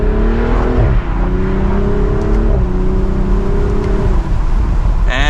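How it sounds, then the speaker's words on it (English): A 2024 BMW Z4 M40i with the top down accelerates hard, its engine note climbing through several gear changes, loud and close from inside the car. "We'll do a quick acceleration."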